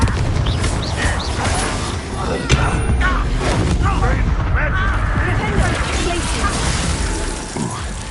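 Spell explosions crackle and boom during combat in Hogwarts Legacy, forming a dense, continuous wash of blasts, shattering bursts and impacts, with a voice shouting spell names over the din.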